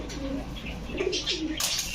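Soft, low cooing of pigeons at a pigeon market, a few throaty calls close by, with a brief rustle or flutter near the end.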